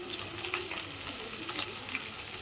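Poppy seed paste fries in a pan with a steady, close sizzle while being stirred, soft scraping strokes recurring throughout with no talking.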